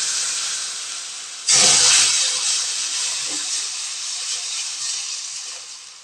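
Hot boiled milk pours into a pan of rava payasam, a sudden loud hissing splash and steam burst that fades slowly into a steady bubbling hiss with no voices.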